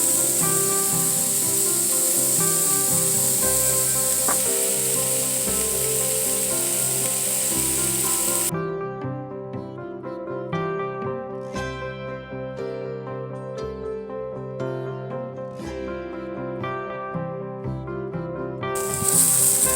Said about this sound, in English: And now I'm gonna saute these onions.